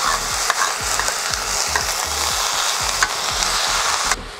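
Shrimp sizzle and crackle steadily in a pan over maximum heat, the hiss loud and continuous, with rhythmic scraping and stirring strokes throughout.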